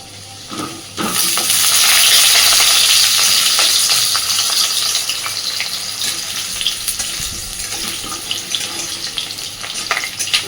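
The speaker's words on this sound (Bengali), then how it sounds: "এবার সবার আগে আলুগুলোকে ভেজে নেব।" Potatoes hit hot oil in a wok (kadai) with a loud burst of sizzling frying that stays steady and then eases slightly, with stirring clinks scattered throughout.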